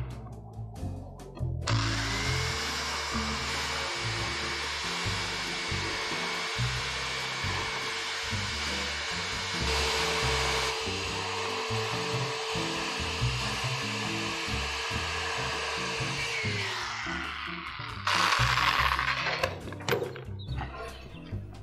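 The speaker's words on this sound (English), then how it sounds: "I've got my jigsaw. We're going to commence the cutting." Jigsaw cutting plywood clamped on a sawhorse, a steady loud buzzing whine running about sixteen seconds without pause, then a short burst near the end.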